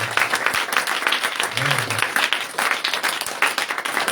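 Church congregation applauding during a French-language sermon, dense steady clapping filling the room with a brief voice rising underneath.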